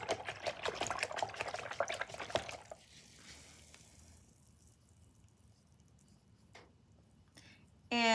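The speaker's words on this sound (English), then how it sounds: "rinse my brush a little bit." Paintbrush swished and rinsed in a water cup, a soft splashing and sloshing for the first few seconds that fades into quiet room tone, with a brief louder sound at the end.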